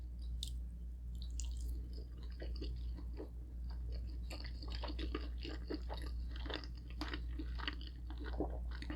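Close, wet chewing and crunching of a roasted pork belly roll with egg, steady mouth noises and small squishes repeating for the whole stretch with no talking.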